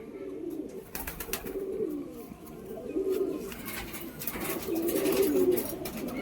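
Madras pigeons coo repeatedly in soft, rolling low phrases, fairly close, with scattered rustling and faint background noise between the calls.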